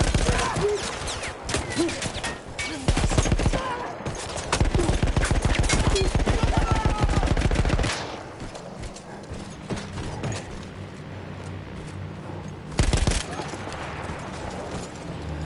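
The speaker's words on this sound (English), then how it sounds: "Stupid machine gun." Machine gun fire in the video game Battlefield 1 rattles in rapid bursts, mixed with mechanical clanks and game effects. One burst runs for several seconds, then a short second burst follows.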